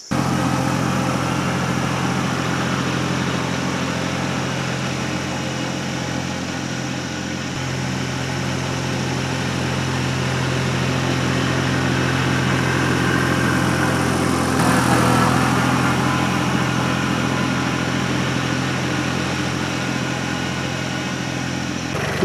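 A steady diesel-like tractor engine drones and idles throughout, loud and close, with a slight swell in intensity partway through and no voices.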